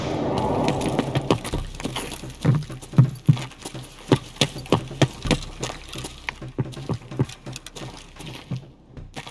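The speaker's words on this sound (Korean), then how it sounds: "발소리 들니다" Footsteps in the shooter game Escape from Tarkov at a Shoreline resort, heard as a run of sharp, regular thumping steps at moderate distance, several in quick succession against a low background hum.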